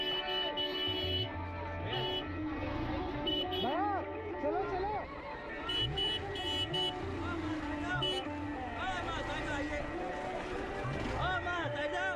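Car horns toot repeatedly in busy street traffic, short honks cutting over engine noise and a steady crowd murmur.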